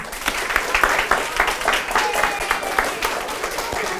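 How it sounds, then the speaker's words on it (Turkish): Applause from a school audience at a fun drama event at a middle school: dense, steady clapping from many hands, loud and close, lasting a few seconds without a break. "Alkışlıyoruz."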